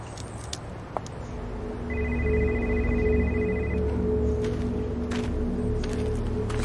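A telephone rings in a horror film, sounding as a high electronic tone that starts partway through and holds for about two seconds over a low background rumble, with a faint click before it.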